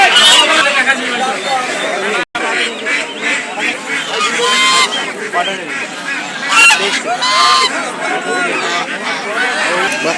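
Geese honk and chatter loudly and continuously alongside their goslings, a dense, busy flock sound close by with overlapping calls throughout.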